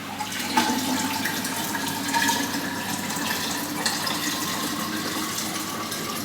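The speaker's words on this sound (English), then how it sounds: "And we're going to pour in some water." Water pours steadily into a Kalkwasser bottle with a continuous gushing, splashing rush, close and fairly even, with no voices.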